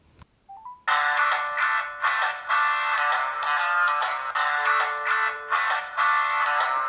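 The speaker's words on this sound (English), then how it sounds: "Now we're going to call this phone" Cheap AliExpress smartphone ringing with an incoming call: after a short blip and brief tones, a loud melodic ringtone plays steadily in repeating phrases, close and alone.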